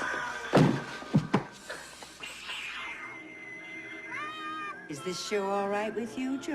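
A cat meows several times, drawn-out and wavering calls near the end, after a few sharp knocks and thuds at the start.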